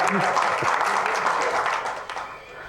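Audience clapping at a Tamil political stage event, a dense, steady wash of applause that stays loud and close before thinning out near the end, with a faint voice underneath.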